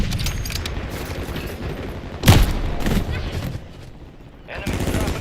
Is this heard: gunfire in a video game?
yes